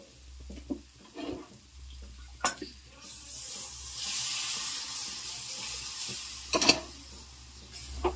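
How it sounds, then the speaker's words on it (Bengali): Hot water is poured into a pan of sautéed soybean chunks and chana dal, a rushing hiss that swells for a few seconds between soft clinks and stirring sounds. "এরপর আমি গরম জল দিয়ে দেবো।"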